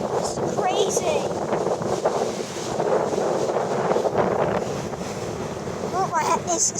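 Strong wind buffets the microphone on a pebbly beach in Turkey, a loud continuous roar with waves surging behind it, while a voice speaks intermittently over the gusts.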